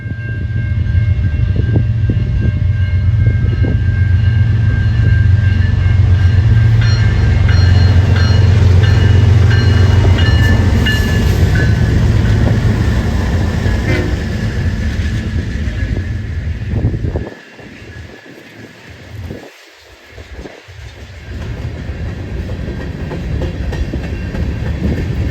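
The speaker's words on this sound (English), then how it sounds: "This one is actually the Oregon local, with 2 BNSF GEs leading a very short train." A very short BNSF local freight train led by two GE locomotives rumbles past loud and close, a steady roar of engines and rolling cars over the first seventeen seconds, then dropping to a quieter rumble as it moves off.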